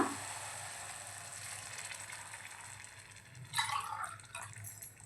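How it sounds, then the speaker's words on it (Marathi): Water is poured into a pan of onion and chana dal, giving a soft gurgling and dripping over a faint sizzle, with a louder splashing burst near the end. "इथे आपण दीड ग्लास पाणी घालतोय"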